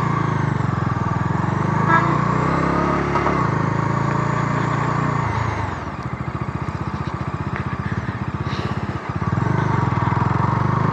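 A 2025 Bajaj Dominar 250 motorcycle's engine hums steadily while riding on the road, with a continuous throaty drone that dips briefly as the throttle eases, then settles into a pulsing rhythm before picking up again, alone without talk.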